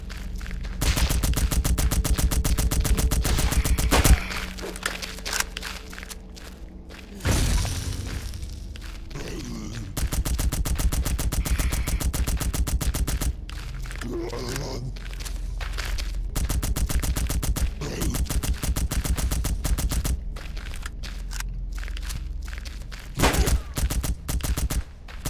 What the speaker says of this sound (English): Oh well, I'm gonna shoot him anyway.